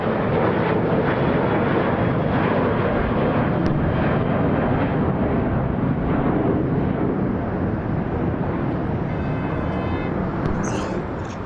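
A Southwest Airlines Boeing jet departs Atlanta International Airport, its engines a loud, steady broadband roar that holds throughout and only slightly eases at the end.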